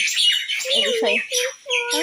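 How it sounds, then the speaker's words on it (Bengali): Bright, close morning bird chirps and calls come in quick bursts, with a brief spoken phrase mixed in. "সকাল সকাল সুন্দর পাখি ডাকছে"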